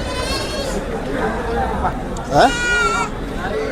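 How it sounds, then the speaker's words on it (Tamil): At the Veera Chozhan goat market, goats bleat a few times amid a busy crowd, and people chatter and call out around them. "இப்போ சந்தைக்கு வந்திருக்கோம் வீர சோழன் ஆட்டு சந்தை"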